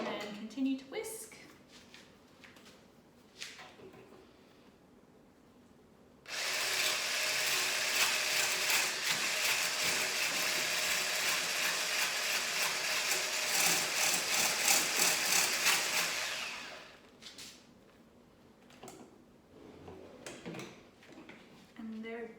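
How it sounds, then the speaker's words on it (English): Whisk beating a homemade low-tox moisturiser mixture in a bowl, a fast, loud rhythmic scraping and clattering that runs about ten seconds, with quieter talk before and after. "And then continue to whisk."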